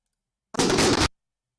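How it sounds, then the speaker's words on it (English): A single explosion from drone strike footage, a dense burst of about half a second that starts abruptly, stays loud and stops short, with no talk over it. "I just don't know where the explosion came from."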